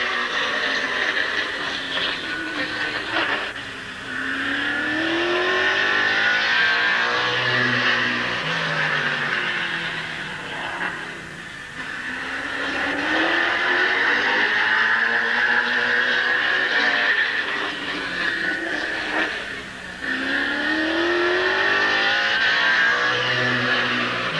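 Race car engines roar around Midvale Speedway in 1988, a continuous loud drone with rising and falling pitch sweeps as cars pass, briefly dipping twice before swelling again.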